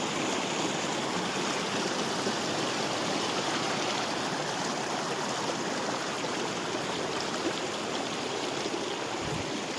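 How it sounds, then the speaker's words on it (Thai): Mountain stream water flows down from the hills near Pa Bong Piang, Mae Chaem, Chiang Mai, a continuous close rushing and babbling that holds steady and is heard alone. "อันนี้น้ำจากหุบเขา ภูเขาด้านบน ก็ปล่อยไหลลงมา"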